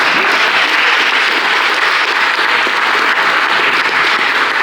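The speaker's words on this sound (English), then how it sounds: "Give yourselves a round of applause." Sustained, loud clapping from an audience filling a room at a professional seminar, steady and dense throughout with no voices over it.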